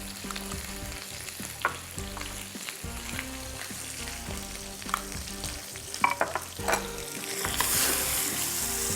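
Chapli kabab gently frying in a pan over low heat, a steady close sizzle with utensil clinks and taps throughout, the hiss growing brighter and louder near the end.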